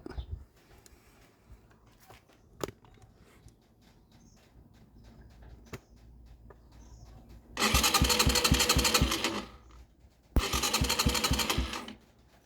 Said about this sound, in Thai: เห็นว่าไดเรามีเสียงดังนะ